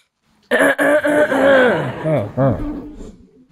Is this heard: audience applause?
no